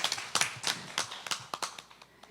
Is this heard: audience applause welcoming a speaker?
yes